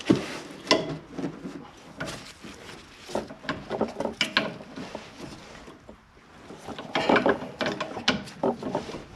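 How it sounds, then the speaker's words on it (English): A 18-inch breaker bar with a deep 14 mm socket working a rear brake bolt on a 2015 Mitsubishi Outlander, heard as irregular metallic clicks, clanks and ratcheting taps close by, in uneven bursts. "I'm using an 18-inch breaker bar right away because the other side was a pain."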